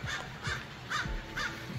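Birds call outside an apartment terrace, four harsh, evenly spaced caw-like cries at moderate distance with steady background ambience and no talking.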